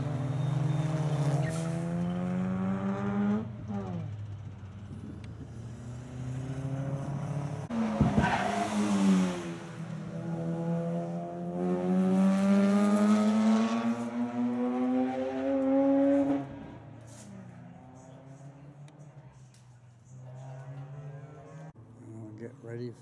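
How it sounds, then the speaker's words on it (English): A fast little Ford race car laps a circuit at a track day at Pheasant Wood in NSW, its engine rising and falling through gear changes as it passes, heard over someone talking. "There's a fast little Ford."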